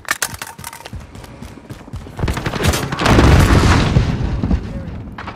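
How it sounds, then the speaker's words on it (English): A cruise missile explodes in Call of Duty: Modern Warfare (2019) during a rooftop fight. Sharp scattered shots come first, then a loud, sustained rumbling blast swells and slowly fades, with little speech. "Cruise missile, go for launch."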